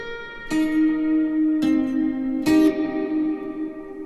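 Electric guitar notes and chords struck three times, each ringing out with a spacious reverb tail that lingers and fades.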